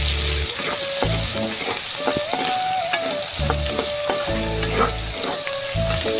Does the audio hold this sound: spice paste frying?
yes